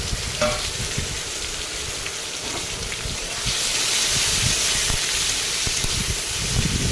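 Tomatoes frying in a kadai with bay leaf, dried red chillies and whole garam masala, a steady loud sizzle and hiss with occasional stirring clicks, growing denser partway through.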